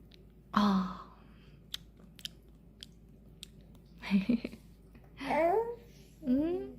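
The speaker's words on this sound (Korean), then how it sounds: "너 진짜 잘 먹는다." A 14-month-old baby chews food with soft, close smacking and munching, broken by the baby's babbling vocal sounds and an adult voice speaking over it.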